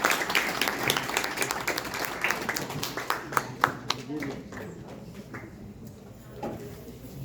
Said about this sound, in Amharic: በእውነት ኧረ አጨብጭቡላት። በእውነት ኧረ አጨብጭቡ። ቆማችሁ አጨብጭቡ።